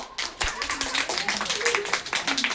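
Guests clap for a Peppa Pig themed birthday celebration, a brisk run of many overlapping hand claps that starts after a short pause, with voices chattering underneath.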